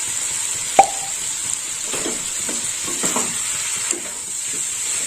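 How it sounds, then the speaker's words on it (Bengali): Vegetables, including yardlong beans and potato, stir-fried with spices in a pan, a soft sizzle with a sharp utensil clank early on and scattered stirring scrapes and plops. "সবজিটা ভালো করে মশলার সাথে কষে নেব"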